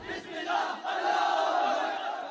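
Hundreds of students from various educational institutions protest at the city center in Islamabad, a crowd roaring and chanting together in a sustained, fairly loud wash of massed voices.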